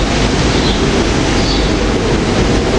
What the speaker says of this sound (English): Here we got the SEPTA train to Doylestown coming in. We got rail cars, a 4-car train